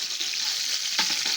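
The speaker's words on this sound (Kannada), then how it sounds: "ಲೋ ಫ್ಲೇಮಲ್ಲಿಟ್ಟು ಆ ಕಡೆ ತಿರುಗಿಸಿ ನಾವು ಚೆನ್ನಾಗಿ ಫ್ರೈ ಮಾಡ್ಕೋಬೇಕಾಗುತ್ತೆ" Brinjal slices fry in oil in a pan over a low flame, giving a steady close sizzle with a brief soft clink or stir near the end, no voices.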